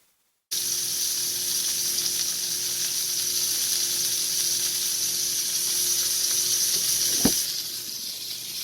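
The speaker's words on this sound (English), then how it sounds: "we got a little sizzle going there" Two burgers fry in leftover bacon fat in a pan, giving a loud, steady, close sizzle with a faint pop near the end and no talking.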